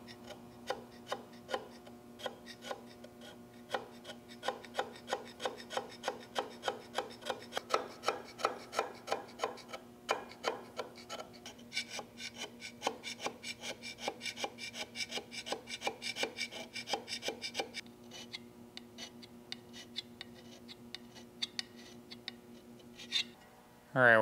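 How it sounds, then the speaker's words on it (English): Hand scraping along the edges of a Lion lathe carriage during restoration: a long series of quick, rhythmic scraping strokes, close but soft, over a steady low background hum. "So we'll come back here and we'll scrape the edges."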